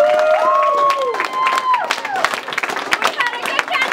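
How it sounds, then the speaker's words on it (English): Crowd at an election victory celebration clapping and cheering, with whoops and shouts rising over dense applause and people talking amid the noise. "give yourself a big round of applause for making this happen"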